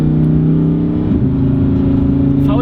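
Inside a Lamborghini Huracan Evo, the naturally aspirated 5.2-litre V10 roars loudly and continuously, its pitch shifting abruptly about a second in as the revs change.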